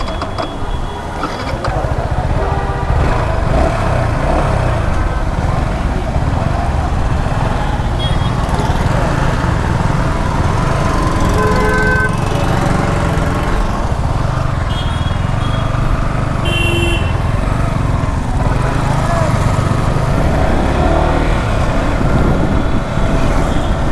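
A 2021 Yamaha R15M motorcycle engine drones loud and steady during a test ride, a continuous buzzing roar with wind rush and occasional higher whines as revs shift, never dropping off.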